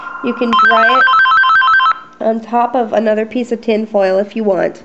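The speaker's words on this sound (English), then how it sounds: "Sorry about the phone." A telephone rings loudly with a repeating electronic trill for about two seconds, while someone talks over it and then goes on speaking after the ringing stops.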